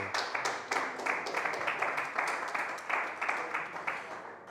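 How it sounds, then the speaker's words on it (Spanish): A church congregation breaks into applause, a moderate, steady patter of many hands with rhythmic surges, somewhat distant and alone without talk. "dale un fuerte aplauso"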